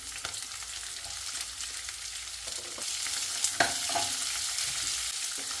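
Onions and green chillies sizzle steadily in a hot pan, a continuous close frying hiss with occasional stirring clinks and scrapes and no talking.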